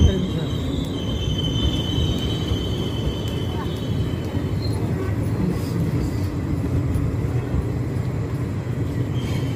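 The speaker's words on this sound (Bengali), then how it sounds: "Saharsa Sealdah হাটেবাজারে express train Jangipur road rail স্টেশনে প্রবেশ" The Saharsa-Sealdah Hate Bazare Express rolls into Jangipur Road railway station, a loud continuous rumble of wheels on rails with faint high squeals throughout, heard close at platform side.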